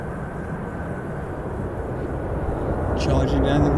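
Ryanair airliner arriving from Dublin charges down the runway at Birmingham airport, a steady broad roar of engine and rushing air that swells louder toward the end as a voice talks over it.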